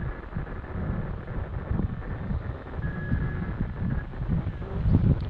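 Strong wind gusting and buffeting close to the ground at an FPV flying spot, a steady low roar with surging gusts that swell louder toward the end, with no voices.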